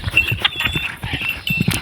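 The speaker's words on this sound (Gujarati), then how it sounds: "હવે જાય છે ઘોડી" A mare walking with hooves clip-clopping in a steady, fairly close rhythm, a run of distinct knocks over the short stretch with some background noise.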